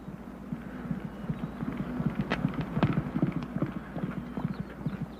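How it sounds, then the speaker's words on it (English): Rapid rhythmic hoofbeats of a galloping horse, close and steady with a thudding drumming pattern, no talking over it. "That horse has just run 6 furlongs without competition in the remarkable time of 1 minute and 12 seconds."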